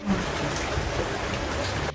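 Heavy monsoon-season downpour in Navsari, a dense, steady wash of rain hissing across surfaces with no break, loud and close throughout with no voices.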